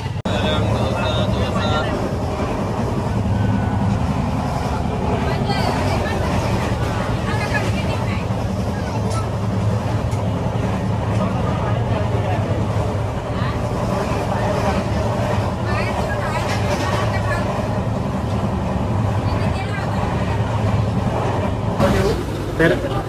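Inside a coach of the moving Mandovi Express train, a steady loud rumble and rattle of running wheels with passengers' chatter throughout.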